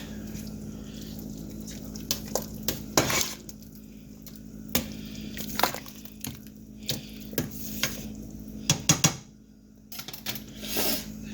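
Chili ingredients being stirred in a pot, with irregular scraping and clinking strokes of a spoon against metal over a low steady hum, no talking.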